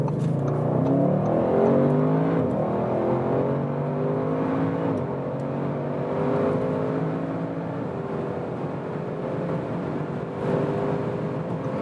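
A powerful 2020 Audi RS6 Avant engine revs hard through the gears on the Autobahn from about 40 km/h to over 200 km/h, its pitch climbing repeatedly with brief shifts between pulls, loud and close throughout.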